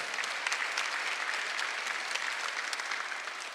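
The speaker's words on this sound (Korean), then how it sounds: "박수 하세요." A congregation claps during a Sunday church service, dense steady applause filling the room at a moderate level with no voices on top.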